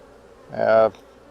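Honey bees swarming at a nuc box give a brief, close burst of harmonic buzzing that swells and cuts off within about half a second.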